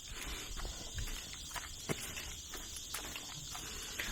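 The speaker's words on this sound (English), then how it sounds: "You can hear the cicadas." Cicadas droning steadily in the background along a wooded walking path, a faint high buzzing bed with scattered soft footsteps and rustles nearer by.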